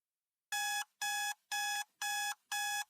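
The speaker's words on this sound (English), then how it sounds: "Martin Hill woke to the sound of his alarm clock." An alarm clock beeps five times in a steady rhythm, each tone bright and electronic, with short silences between them.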